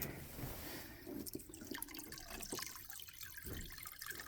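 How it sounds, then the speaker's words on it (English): Water runs out of a shut-off faucet valve into a bucket during farm chores, a faint, steady trickle and dripping patter that thins out over several seconds with no talking. "I just let it run out so that it doesn't run onto the ground when I take the bucket away"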